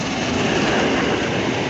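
Tornado steam locomotive at Brookwood station in the UK, a steady loud broadband rumble of the train running close by with a faint rail clatter, continuous throughout and no voices.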